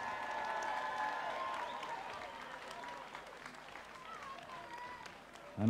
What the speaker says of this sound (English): let's have a huge round of applause for these fighters